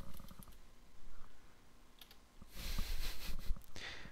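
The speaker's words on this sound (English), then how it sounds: "Forgive my terrible typing." Typing on a computer keyboard, soft irregular clicks at first, then a brisker run of close, louder keystrokes toward the end, with no talking.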